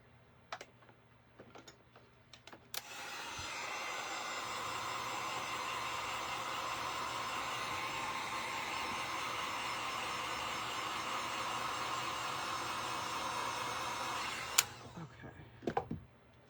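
A hair dryer blows steadily on a stained painted figure, a continuous broadband rush that starts abruptly, holds level for about twelve seconds and cuts off, with small handling clicks before and after.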